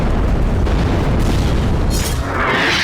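Explosions in Gaza set off by Israeli robots sent toward buildings: a loud, sustained low-heavy rumble that fills the whole stretch, with a hissing burst of debris near the end.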